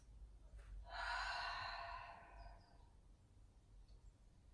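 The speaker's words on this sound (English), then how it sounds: "Blow out through the mouth." A long breathy exhale blown out through the mouth during an antenatal breathing exercise, close and soft, lasting about a second and a half before fading into quiet room tone.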